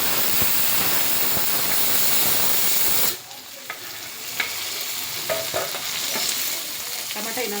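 Chopped onions hit hot oil in a pan for an Uttarkarnataka-style dish, a loud hissing sizzle that settles into quieter frying with scraping stirs and light clatter.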